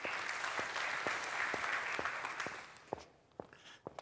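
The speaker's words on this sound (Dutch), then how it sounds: "Mag ik een applaus voor Michel?" Audience applause at a public academy session on child poverty in Friesland, a dense steady clapping that fades out after about three seconds, leaving a few isolated claps and footsteps in a quieter room.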